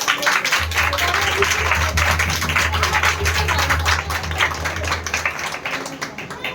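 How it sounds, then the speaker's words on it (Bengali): A church congregation claps hands loudly together during a Bengali sermon, a dense burst of many overlapping claps lasting several seconds over a low steady hum, with some voices mixed in. "আমরা জোরে একবার হাততালি দিই।"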